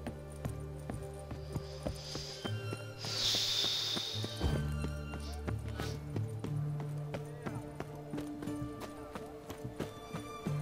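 A horse's hooves clip-clop steadily in The Witcher 3, a regular walking rhythm under game music and ambience, with a snort or whinny partway through.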